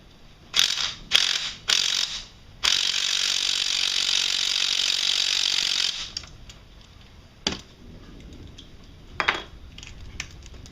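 Socket ratchet working a 13mm bolt on the cam gear of a Can-Am Outlander 500/650/800 engine, giving several short bursts of ratcheting clicks followed by a long steady run of clicking, then a few scattered metallic taps.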